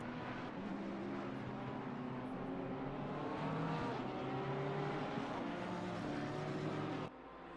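The SCB Racing Porsche race car in Assetto Corsa Competizione during a 12-hour endurance race at Barcelona, a sustained droning engine note with shifting pitch, steady and fairly loud, cutting off abruptly near the end.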